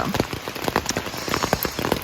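Rain drums on a tent at a campsite on the Appalachian Trail, dense irregular taps and splatters close overhead, continuous and fairly loud.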